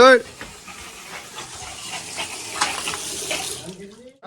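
Water gushes steadily from a tap, a continuous close splashing that stops abruptly near the end, with a brief voice at the start and finish.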